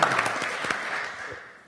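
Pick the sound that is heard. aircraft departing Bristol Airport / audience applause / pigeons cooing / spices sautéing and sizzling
audience applause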